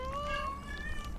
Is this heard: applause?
no